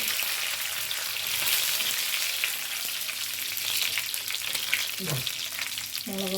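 Pachadi ingredients roasting in oil in a pan give a steady, close sizzle throughout, with a brief clink of a utensil near the end and no talking.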